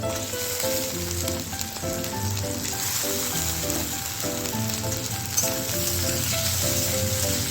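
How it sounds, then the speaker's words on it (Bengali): Potatoes added to a hot pan after onions sizzle continuously up close, a dense crackling hiss that holds level for the whole stretch, with background music playing beneath. "আলু আমি একটু ভেজে নেব"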